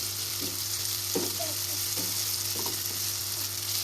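Tomatoes frying with softened onions for masala-stuffed bhindi, a steady sizzle running throughout with a few soft scraping stirs of the spoon near the middle and end.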